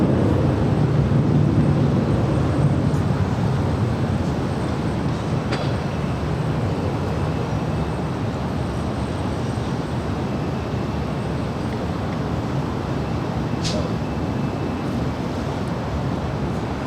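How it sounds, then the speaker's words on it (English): A SkyWest Embraer E175LR jet departs LAX bound for Tucson, a broad, steady roar heard from a distance that stays constant for the whole stretch, with no voices over it. "This is SkyWest 120 Charlie departing to Tucson. It's an Embraer E175LR."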